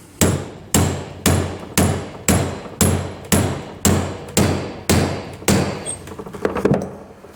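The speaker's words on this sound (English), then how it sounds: "I'll use an overgrown socket here to seat this bearing" A hammer drives a bearing into place through an oversized socket, about ten loud, evenly spaced metallic strikes with ringing decay, ending in a few quicker lighter taps.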